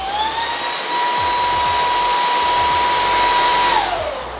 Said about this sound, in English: when you guys turn on turbo, it is pretty loud.